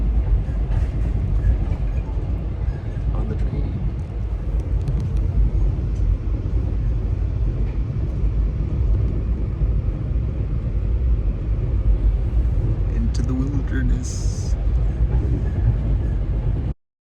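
A train passes through the Wabakimi wilderness as a steady, loud, low rumble that holds evenly for the whole stretch, then cuts off abruptly at the end.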